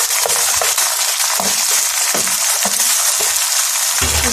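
Tomatoes added to onion and garlic-ginger paste frying in a pan, a loud, dense sizzle with repeated thuds and scrapes as the mixture is stirred.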